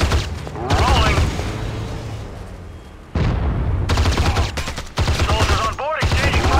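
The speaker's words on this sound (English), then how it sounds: "Soldiers on board exchanging fire." Soldiers trade gunfire in the Act of War video game. Dense bursts of automatic fire arrive in loud blocks separated by brief lulls, and radio-style voices cut in over the shooting.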